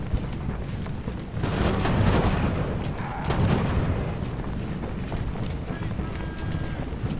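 Battle sounds from Ultimate Admiral: Age of Sail, with musket and artillery fire as a dense, rumbling volley of booms and crackles that swells and fades over a steady din, heard under talk.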